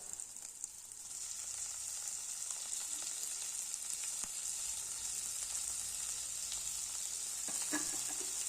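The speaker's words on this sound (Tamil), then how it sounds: "நல்லா வதக்கி விடலாம் இப்போ வெங்காயம் தக்காளி எல்லாம் நல்லா வதங்கிட்டு" Chopped onions and tomatoes sautéing in a pan for crab rasam, a steady close sizzle and frying hiss with occasional stirring clicks and no talk.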